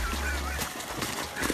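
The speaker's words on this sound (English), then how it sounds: "take a look at this huge one attacking a dog" A huge swan attacking a dog gives loud, harsh honking calls, close and insistent across a brief burst.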